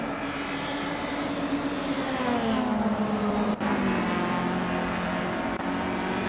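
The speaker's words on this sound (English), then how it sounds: "Renog T4 is driving a 1995 Volvo 850, which is holding 2nd place" A 1995 Volvo 850 race car in a video game races past with a sustained engine drone that slowly drops in pitch, loud and steady, with no one talking.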